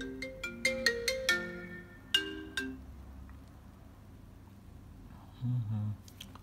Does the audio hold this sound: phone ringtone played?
yes